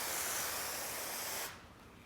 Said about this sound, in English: using a pump spray bottle, I'm going to spray some water onto these tapes